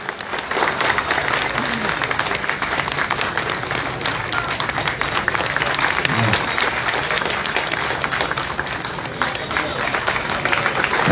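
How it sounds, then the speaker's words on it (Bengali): Audience applause at a welcome ceremony for local officials, loud continuous clapping from a large crowd that holds steady throughout with no pause. "সবাই মিলে একটু করতালি দিয়ে অভিনন্দন জানাবেন।"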